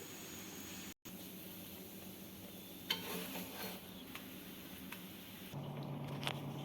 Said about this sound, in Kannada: ಎರಡು ಸೈಡು ಎಣ್ಣೆ ಅಥವಾ ತುಪ್ಪ ಹಚ್ಕೊಂಡು ಬೇಯಿಸಿ.